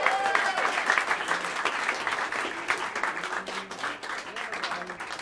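Audience applause at the Smalls jazz club during a live quartet set: a dense, steady patter of clapping hands from a small crowd, with a voice speaking over it.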